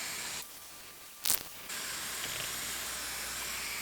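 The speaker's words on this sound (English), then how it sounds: "With new seeds, I like to water from the top with a foliar sprayer" A foliar sprayer mists water over freshly planted seeds in soil blocks, giving a soft, close hiss with one sharper burst near the middle, quiet and alone.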